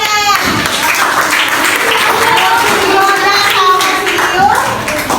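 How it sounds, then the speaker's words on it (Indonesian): Classroom applause during a school lesson in Indonesia, with children clapping hands together in a dense, steady patter throughout, mixed with high children's voices chattering over it. "Ya, tepuk tangannya."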